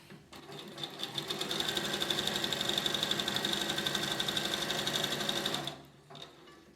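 A sewing machine stitches elastic onto fabric for girls' boxer shorts with a fast, steady mechanical whir and rhythmic needle ticking for about five seconds, then slows to a stop, close up with no voices.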